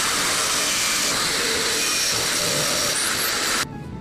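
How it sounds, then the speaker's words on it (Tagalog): Electric drill bores into a wall to mount a mirror cabinet, a continuous loud high-pitched whirring grind lasting several seconds before cutting off abruptly near the end. "Ngayon, tutuluyan nyo na ng barena."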